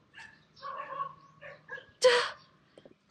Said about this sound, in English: it looks like the dogs were bullying another dog or another animal